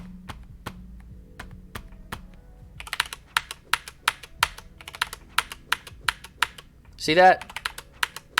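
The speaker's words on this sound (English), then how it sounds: "Did you hear the clacking, how it was in a rhythm?" Keyboard keys clack in a steady rhythm while the Grand Chase Classic video game is played, loud and close, with a brief spoken remark near the end.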